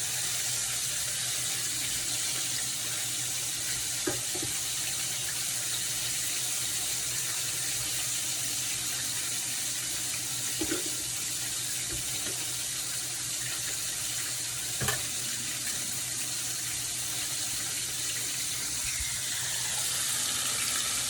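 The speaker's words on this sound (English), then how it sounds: "you have to wash your hand every chance you get to wash it" Tap water runs steadily into a sink for hand washing in a home kitchen while cooking Jamaican-style fried chicken, a continuous close hiss with a few faint clinks, no talking.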